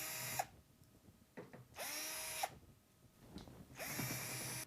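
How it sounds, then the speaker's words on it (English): A power drill removes the screws from a switch cover plate on a Thermax DV 12, whirring in three separate bursts, each about a second long, with quieter mechanical clicks and handling noise between them. "grab your Phillips screwdriver or power drill. Remove the 4 screws that hold this plate in place."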